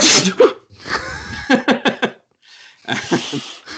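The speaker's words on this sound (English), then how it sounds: "I'm about to sneeze, so don't worry." A few loud, close sneezes in quick succession with sharp bursts of breath and short gaps between them.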